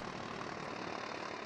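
A warmed-up vehicle engine in the video game Eco runs with a steady, even drone, quiet and unbroken throughout.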